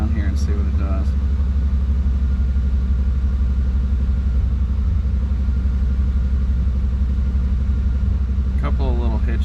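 A 1992 Chevy C1500 pickup truck engine idles nearby with a steady, deep, even rumble throughout, and someone talks briefly over it at the start and the end.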